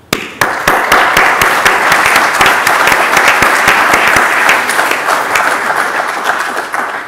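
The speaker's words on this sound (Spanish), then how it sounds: "quiero daros un aplauso a todos los escritores" An audience bursts into loud, sustained applause for a book's writers at a science-outreach celebration, with dense, even clapping that continues close and strong throughout.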